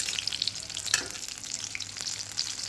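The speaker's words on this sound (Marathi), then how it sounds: "आता बाकीची अशाच पद्धतीने तळून घेते मी" Vegetable fritters fry in hot oil in an ordinary kadhai, a soft continuous sizzle with crackling pops, close and fairly quiet, with a brief stir or scrape partway through and no talking.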